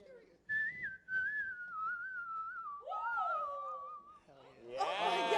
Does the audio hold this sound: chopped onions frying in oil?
no